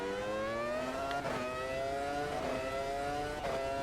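A Formula 1 V10 engine from the 1999 San Marino race in the Automobilista 2 racing game, screaming at high revs with rising pitch and quick gear changes, loud and close.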